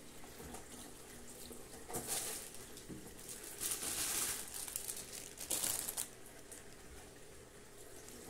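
Tap water runs into a sink while chicory leaves are washed, a steady low splash with crinkling leaf sounds swelling around the middle and fading toward the end, no talking.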